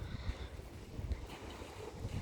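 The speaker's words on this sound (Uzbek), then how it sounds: "shamol hozir" Wind blows in low gusts and rumbles against the microphone, steady and fairly quiet, with no voices.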